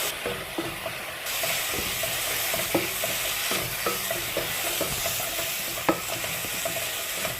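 Cardamom and pepper powder sautéing in a hot pan for a chicken dish, a steady close sizzle with scattered scraping clicks of a spoon stirring through it.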